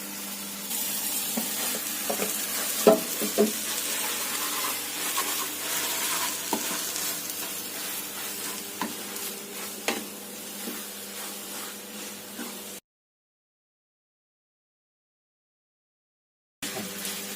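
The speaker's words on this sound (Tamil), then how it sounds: "நம்ம வேக வச்சு எடுத்த மேகி வந்து இதுல போட்டு கிளறிடலாம்" Boiled Maggi noodles stirred into egg masala in a hot pan, a continuous close sizzle with scraping utensil strokes, then a few seconds of silence before the sizzle resumes.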